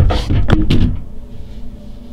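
Cabinet doors in an ocean view stateroom aboard the Royal Caribbean cruise ship Explorer of the Seas opening with a few quick close knocks and clacks within the first second, then a quiet room hum.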